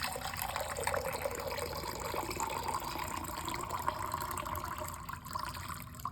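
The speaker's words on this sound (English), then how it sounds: "we're gonna pour it right into that cup" Water pours steadily into a cup while a spring decoration is being made, a soft, continuous trickle and gush with no talking.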